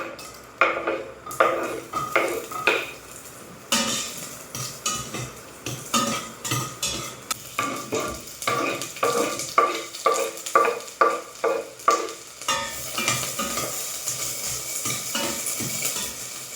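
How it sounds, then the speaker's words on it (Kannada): A spoon stirs and scrapes a pan as hot tempering is poured into cooked greens, with a bright sizzle under repeated, rhythmic close metallic clinks and scrapes. "ಇವಾಗ ಸೊಪ್ಪಿಗೆ ಒಗ್ಗರಣೆ ಹಾಕ್ಬಿಡ್ತೀನಿ."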